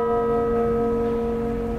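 Clock tower bell in Taormina, Sicily, a single sustained ringing tone that hangs and slowly decays, loud and near with no talk.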